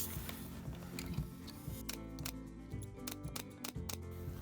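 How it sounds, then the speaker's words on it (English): Scissors snip through upholstery fabric for a chair, a run of quick crisp cuts and clicks close by, fairly quiet, with no talking. "Be very careful when you're cutting."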